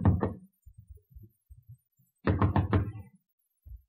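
Vigorous knocking on a door marked private: two quick bursts of loud, rapid raps separated by a quiet pause with a few faint bumps.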